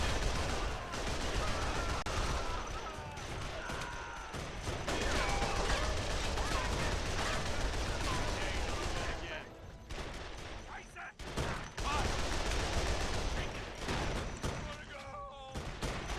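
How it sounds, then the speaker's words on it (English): An anti-aircraft gun chatters in The Outfit, rapid bursts of heavy automatic fire mixed with other gunfire and explosions, loud and sustained with short pauses, while a voice talks over the battle. "That anti-aircraft gun that I just called in is actually just 450 cals linked"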